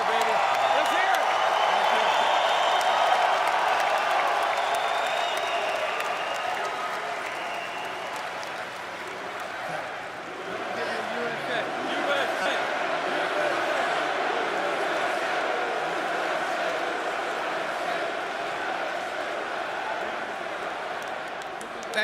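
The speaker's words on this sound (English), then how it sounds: "Let them give you a cheer, baby." A large crowd at the NFL Draft cheers and applauds in a sustained roar, loudest at the start and easing slightly before swelling again, with voices mixed into the din.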